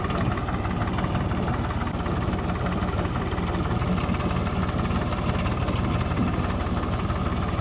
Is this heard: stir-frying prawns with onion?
no